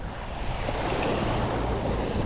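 Strong ocean waves surge around a small fishing boat out at sea, a steady broad wash of surf mixed with wind buffeting the microphone, continuous and fairly loud with no speech.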